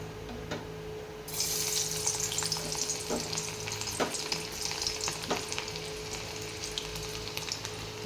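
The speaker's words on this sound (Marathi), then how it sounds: "ते लसूण त्या तेलामध्ये टाकून घ्यायचं आहे" Garlic dropped into hot oil in a pan bursts into a loud, steady sizzle that holds throughout, with a few faint clinks and stirs along the way.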